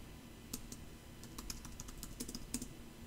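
Text being typed on a computer keyboard, giving scattered light key clicks in short irregular bursts, soft and close against a quiet room hum with no talking.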